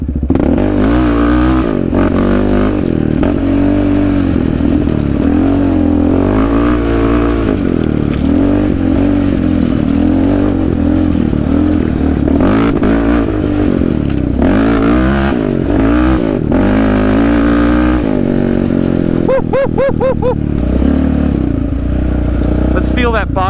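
A powerful 450-class off-road motorcycle engine revs and accelerates hard at Lake Havasu, rising and falling in pitch, loud and close, with a person talking over it.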